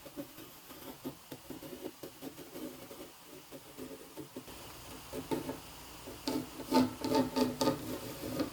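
Graphite pencil scraping freehand along the grain and contour of a hazelnut flatbow stave, a soft intermittent rasping that grows louder and busier toward the end, close by with no talking.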